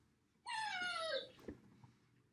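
A pet dog gives one drawn-out, high whimper lasting under a second. It is close and clear, then fades into quiet room noise with a couple of faint knocks.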